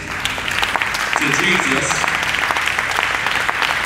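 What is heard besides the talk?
congregation clapping hands in praise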